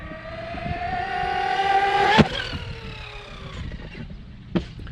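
A large-scale RC car, an Arrma Typhon or Traxxas Maxx, launching off a ramp at a park: a high motor whine climbs and falls, then a sharp landing thud and a second smaller bump a couple of seconds later.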